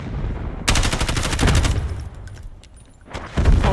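Video game gunfire from a tactical shooter, loud and close: rapid automatic bursts roll for about a second and a half, ease off into a lull, then a fresh burst starts.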